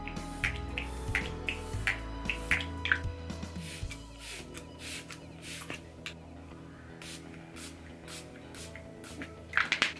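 Setting spray misted onto a face to lock in powder makeup, a run of short soft hissing bursts close up, followed by quieter rustling and a few more sharp sprays near the end.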